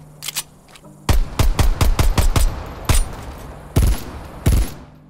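Assault rifle fire in Call of Duty, played on a DualSense controller: sharp, loud bursts of rapid shots with brief pauses between them, then a few isolated single cracks, with no talk.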